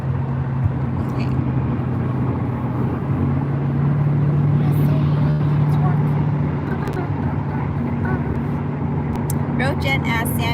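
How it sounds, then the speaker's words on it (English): A car drives along the road on the way to a coffee shop, a steady engine and tire drone filling the cabin throughout, with a few faint clicks and brief noises near the end. "we're driving to the coffee shop"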